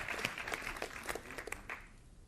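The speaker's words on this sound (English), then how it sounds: "Give him a round of applause." An audience bursts into brief applause, dense and fairly close, thinning out and fading within a couple of seconds.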